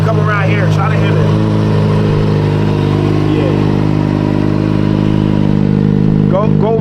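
A cheap, rare motorcycle engine runs close by, loud and steady, with small throttle blips rising and falling. People talk over it.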